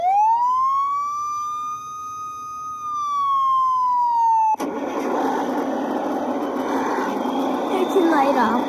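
A Hess toy police car's siren sounds a single steady electronic wail, loud and close, then gives way abruptly to a rougher engine-like toy noise with light clicks.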